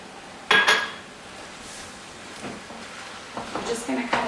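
A utensil clinks and scrapes in a pan while sundried tomato spaghetti squash, spinach and non-dairy cheese are stirred together, with a sharp clatter near the start, softer scrapes later, and a voice talking throughout.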